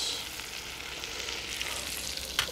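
Garlic pieces sizzle in a pan inside an Ooni Koda pizza oven, a soft, steady crackling fry heard close by with no talking.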